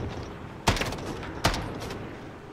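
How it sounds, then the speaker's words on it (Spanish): Pistol shots in Call of Duty Modern Warfare, two sharp cracks about three quarters of a second apart, each trailing into a brief echo over faint game background noise. "Le doy con la pistolita y tampoco muere."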